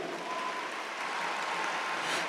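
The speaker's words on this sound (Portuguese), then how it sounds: "Você está aplaudindo, mas pode aplaudir" Steady applause from a church audience, an even, continuous wash of many hands clapping at moderate distance, with no clear breaks.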